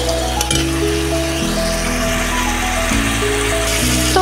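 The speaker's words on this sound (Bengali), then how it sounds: "এখন আর একটু কষিয়ে নিব, ভুনা ভুনাই করব" Egg bhuna sizzling in a pan as it is stir-fried and cooked down, a loud steady frying hiss with low clatter from the utensil shifting the masala-coated eggs.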